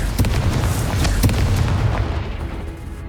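Confringo spell explosions in the video game Hogwarts Legacy: a rapid series of sharp booming bursts and crackles over a dense, continuous low rumble that gradually eases off toward the end.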